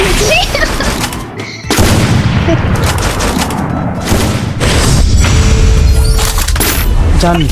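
Gunfire in a shooting video game, including UMP and shotgun fire, with loud, dense bursts of shots, booms and thuds that follow one another with hardly a gap.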